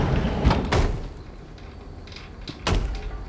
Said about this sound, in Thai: เสียงใครทุบประตูห